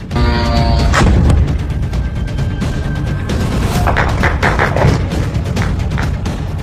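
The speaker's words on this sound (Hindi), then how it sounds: "धमाकों से गूंज उठी मनामा की रात।" Explosions at night in Manama during the Iran-Israel war: a dense, loud run of booming blasts and cracking reports, one after another without pause for nearly seven seconds.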